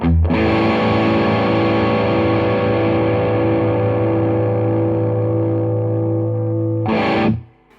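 Electric guitar chord played through a Keeley D&M Drive distortion pedal, a single loud, chunky, heavily distorted chord held with long sustain for about seven seconds before a brief fresh strum and cutoff.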